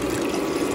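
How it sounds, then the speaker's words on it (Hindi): Two cups of water pour into a pot for instant coffee, a steady full gushing splash filling the brief moment without any speech. "उसमें डाल रही हूँ 2 कप पानी।"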